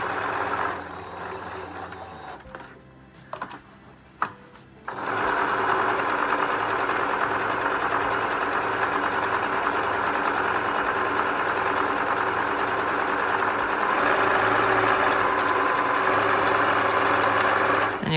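Sewing machine stitching fabric for thrifted Easter home decor: a brief backstitch burst, then a steady, loud, continuous mechanical whir of stitching that runs for over ten seconds without talk.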